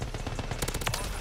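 Rapid automatic gunfire in the video game Call of Duty Modern Warfare III, a continuous burst of loud cracking shots layered with game effects, close and dense throughout with no talk.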